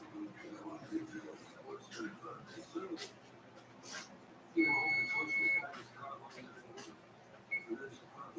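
A deep freezer gives a thin, high electronic beep for about a second, then briefly again, while people talk quietly nearby.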